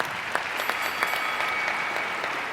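A debate audience at a drug legalization debate breaks into sustained applause, dense, even clapping that fills the whole stretch without a break.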